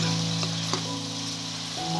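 Fish curry ingredients fry in a pan, a loud close steady sizzle with a brief stir partway through, alone without talk.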